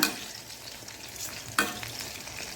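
Chicken pieces in spicy masala coating frying in a pan, turned one by one: a soft continuous sizzle with a sharp scrape or clatter partway through as a piece is flipped.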